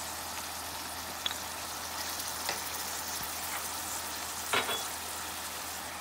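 Fresh ginger dropped into a hot pan sizzles with a dense, steady frying hiss, close and moderately loud, with a few soft stirring clicks and scrapes.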